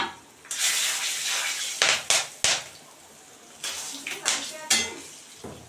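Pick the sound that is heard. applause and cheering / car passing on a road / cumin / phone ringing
cumin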